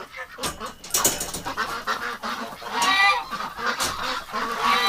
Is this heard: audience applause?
no